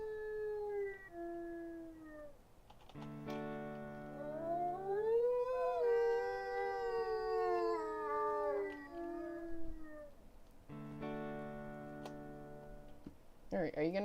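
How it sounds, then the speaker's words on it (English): Long, tonal wolf howls rising and falling in layered pitches from the wolf video game Blood Rose Pack Origins, several overlapping calls sustained over many seconds, clear and prominent with a soft ticking underneath. "Oh, I hear a slight howling in the background."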